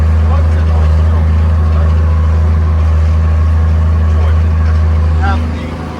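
A Schlüter E7800TV tractor working a plough with a Rabe Werk 120 XD, its engine a loud, steady low drone heard close up from the cab, easing off slightly at the very end.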